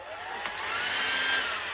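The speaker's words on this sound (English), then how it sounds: "I'm going to use the hairdryer" A hair dryer on less than full heat, powered by a 3000W inverter in a caravan, whirs up to a steady, airy whine, its motor pitch rising slightly as it spins up, close by and continuous.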